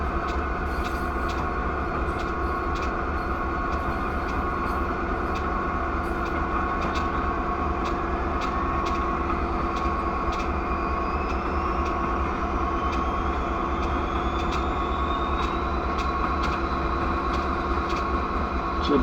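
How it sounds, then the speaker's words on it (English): A locomotive passes in the Train Simulator game with a steady, close rumble and a shrill, rising whine over it. No one speaks. "a train is coming on our left, as you can hear the shrill sound of the locomotive."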